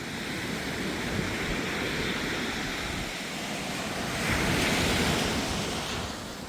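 Ocean surf and strong wind at Silver Beach in Tamil Nadu: a continuous broad roar of breaking waves with wind buffeting the microphone, swelling louder midway, with no voices.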